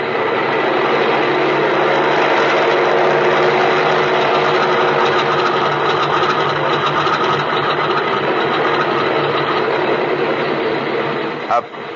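Airplane engine roaring at full power for takeoff in a 1940s radio drama, a loud steady drone held for about twelve seconds before a brief click at the end.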